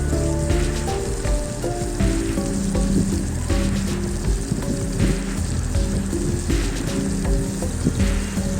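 Chopped onion and ripe tomato pieces fry in hot oil in a kadai, giving a loud, steady, dense sizzle with occasional stirring scrapes, close up and without talk.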